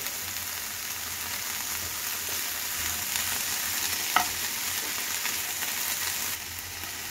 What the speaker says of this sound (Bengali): একটু হালকা আঁচে একটু বসিয়ে রাখতে হবে 2-3 মিনিট, সবজিটা একটু একদম ভাজা ভাজা হয়ে যাক